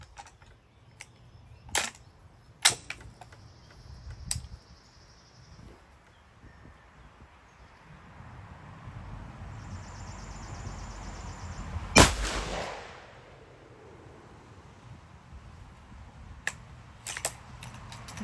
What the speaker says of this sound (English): One last shot just to get rid of the full metal jacket.